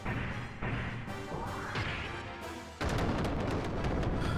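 A video game explosion in Xenogears sounds as a string of heavy crashes and booms, building across several seconds to a loud, dense blast that carries on to the end.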